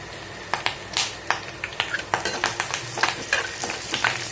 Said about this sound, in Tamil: கருவேப்பிலை பொரிஞ்சிருச்சு